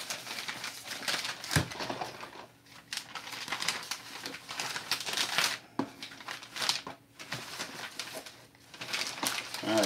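A plastic bag is handled and crinkled close by in dense, continuous rustling and crackling with a few brief pauses. A person talks intermittently underneath.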